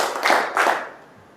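A group in a classroom clapping game claps in two distinct bursts that fade quickly into quiet.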